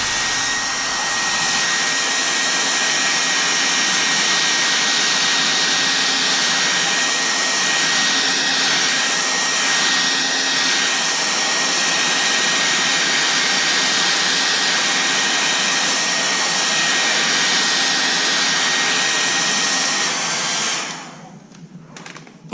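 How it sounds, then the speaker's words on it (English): Hair dryer running on high while heating car door trim during a door handle wrap on a 2014 Chevy SS, a steady loud whooshing blow that holds unbroken for about twenty seconds before cutting off near the end. "I have my hairdryer on high."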